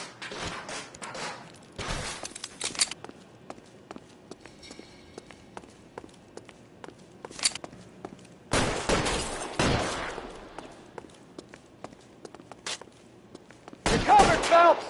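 Sporadic gunshots crack out in separated clusters during an L.A. Noire shootout, loud and sharp against quiet gaps, with voices heard only briefly.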